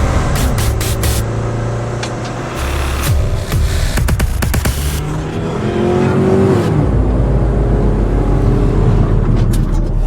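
A government bus travels from Sempatti to Dindigul, its engine roaring and revving loudly up close, broken by several horn blasts and clattering bursts before settling into a steady drone.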